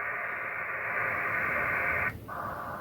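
Steady hiss of static fills an amateur radio receiver tuned to a dead band with the volume turned up, continuous and fairly loud, with a brief dip near the end and no voices.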